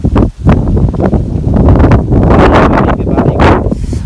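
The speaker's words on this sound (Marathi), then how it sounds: "हा हा हा वारा पण सुटला आहे" Loud, gusty wind buffeting the microphone in rough, rumbling bursts throughout.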